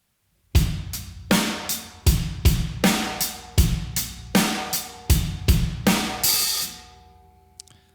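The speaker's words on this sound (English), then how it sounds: "we're going to keep the hi-hats closed and do a standard money beat behind it" A drum kit plays a steady rock beat of kick, snare and tight closed hi-hat ticks. Repeating hits sound up close, ending in a decaying crash.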